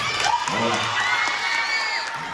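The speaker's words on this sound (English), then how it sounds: "Let's give them a hand clap." A school audience at a science bowl event claps and cheers for the team, a burst of applause mixed with whoops and excited shouting.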